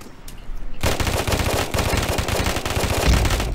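Rapid automatic gunfire in the shooter game AfterPulse, a loud, dense burst of rattling shots close up that runs almost continuously for a few seconds after a brief quiet start.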